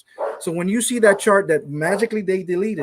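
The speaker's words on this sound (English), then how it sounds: "my dog is barking" A pet dog barks and yips in short bursts close to the microphone, tangled up with someone talking continuously over it during a gaming podcast.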